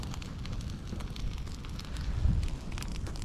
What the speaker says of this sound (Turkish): Şimdi bir püskürecek alevler. Ondan sonra duracak.